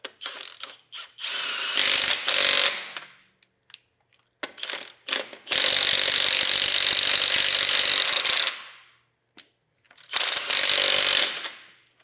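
A mid-torque impact wrench at full power level 3 hammers on car lug nuts in loud rattling bursts of one to three seconds, separated by short pauses, struggling to break them loose.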